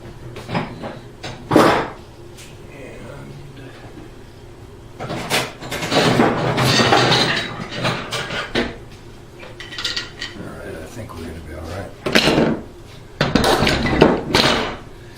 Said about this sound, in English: Let me get some clamps together.